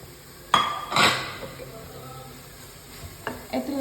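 Shredded cabbage and carrot get tossed in a hot pan for momo filling, two quick metallic scrapes and clinks of a spatula over a faint sizzle, then a couple of lighter taps, close by.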